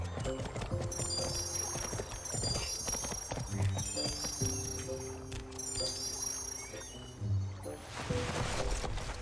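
Horse hooves clip-clop in the Barbie Wild Horse Rescue video game, soft and steady under game music with a few tinkling chimes.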